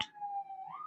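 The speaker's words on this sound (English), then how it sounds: "Oh no, sirens are coming." A single emergency vehicle siren sounds steady and fairly faint as it approaches and passes, holding a sustained wailing tone without talk.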